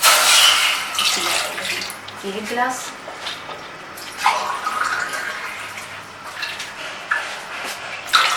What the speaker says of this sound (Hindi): तो इसमें 2 गिलास पानी जाएगा।